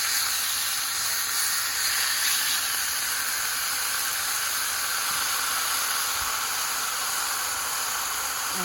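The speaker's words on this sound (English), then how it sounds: "I'm frying my bologna." Bologna slices frying in a pan, a steady loud sizzling hiss that runs unbroken throughout, close by with no talk.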